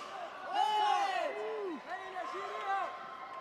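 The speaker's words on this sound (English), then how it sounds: "Their teammates is cheering them on." Teammates shout and cheer on a fighter during a 56kg boys' sanda bout at the World Junior Wushu Championships, with drawn-out voiced calls rising and falling over a low murmur of the hall.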